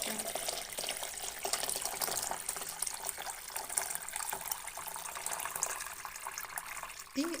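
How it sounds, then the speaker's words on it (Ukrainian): Cold tap water pours into a pot holding jars of home-canned apples, a steady hissing, splashing stream that runs continuously at close range with a faint thump near the end. "заливаємо холодною водою."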